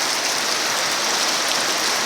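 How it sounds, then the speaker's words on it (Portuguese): A steady, loud hiss of heavy rain pours down without pause, dense and even throughout, with no voices. "Mas graças a Deus que tá chovendo, né?"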